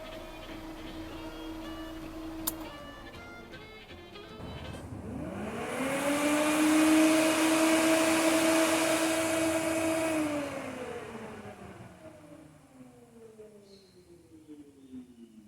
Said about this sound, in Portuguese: e aciono a ventoinha interno do carro mesmo